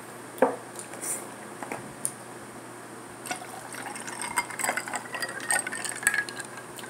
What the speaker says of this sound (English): I forget to pour some Lipton tea in my cup